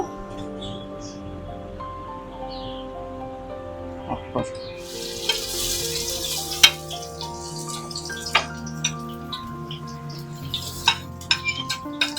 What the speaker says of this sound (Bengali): এখন পেঁয়াজ বেরেস্তা করবো